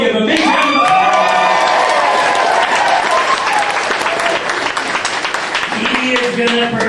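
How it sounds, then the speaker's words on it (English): An audience in Canmore, Alberta gives loud, sustained applause for a keyboard player, with dense clapping, cheers and whoops, and a voice speaking over the crowd. "Give a big round of applause"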